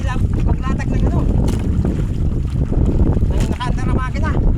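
A fishing boat at sea in windy, choppy conditions, its running engine a loud low rumble under heavy wind buffeting on the microphone, with people talking over it.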